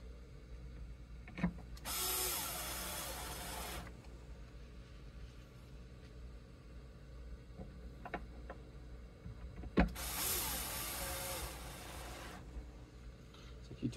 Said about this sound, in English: trigger warnings every time I go to grab the power drill. Warning, power tools will be used.